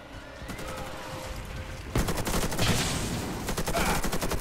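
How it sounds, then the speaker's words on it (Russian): Rapid automatic gunfire bursts from the online shooter Warface, quieter at first and then louder and denser, a continuous rattling stream of shots. "Блин, по мне стреляют."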